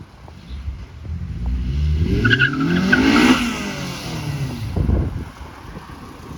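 A repaired Honda car that had been crashed drives past with a rising engine note, then tires squeal loudly as it passes close, followed by fading engine noise and a brief second squeal.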